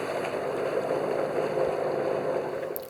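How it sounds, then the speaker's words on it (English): A boat engine drones steadily at close range at about 2750 rpm off Anglesey, a constant mid-pitched hum with water wash underneath, no voices. "The engine's been running for quite a bit"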